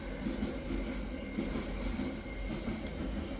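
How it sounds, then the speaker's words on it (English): Cargo train passing outside, heard from indoors through a window as a steady low rumble. Faint rhythmic clatter from the rail cars rides on top, and the sound stays even and fairly distant throughout. "It's one of those cargo trains."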